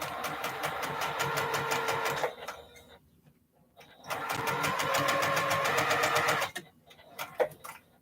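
A sewing machine stitches fabric for patch blocks in two fast, steady runs of close mechanical whirring and needle clatter, with a quieter pause between them.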